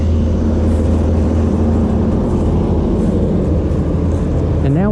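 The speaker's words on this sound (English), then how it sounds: "trying to get across this road with all the traffic" Road traffic roars past at a mountain trailhead crossing, a loud, continuous engine rumble and tire noise from nearby vehicles with no break.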